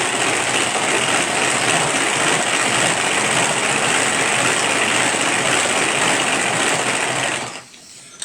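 A kitchen mixer whirs steadily at speed 2 while making clafoutis, a dense motor drone that runs unbroken for several seconds before cutting off near the end.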